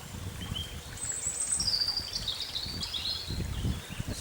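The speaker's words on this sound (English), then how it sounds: "I can hear a robin in the background there." A robin sings in woodland, a few thin high warbling phrases fairly faint over rustling leaves and low background movement.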